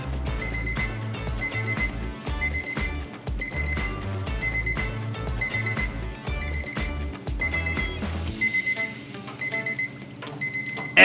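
An electronic kitchen timer alarm rings in a fast, repeating pattern of bright beeps over a rhythmic backing track for several seconds, then the pulsing pattern shifts and thins near the end; no voices.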